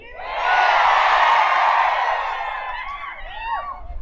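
Dense rally crowd noise at a Latur political meeting, a loud sustained roar of cheering and applause peaking early then easing, with whistles rising over the tail end.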